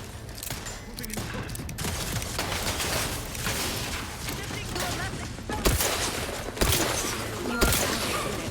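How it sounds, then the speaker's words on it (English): Gunfire from The Outer Worlds 2 crackles as rapid shots under dense game sound, followed by three loud separate shots near the end, with some talk mixed in. "I'm like shooting through this guy's head"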